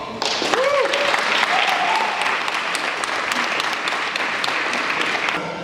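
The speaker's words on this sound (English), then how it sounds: "who I affectionately call Mo, I would like you guys to give him a loud round of applause" Sustained applause from a crowd, loud and steady throughout, with a few brief cheers or whoops near the start.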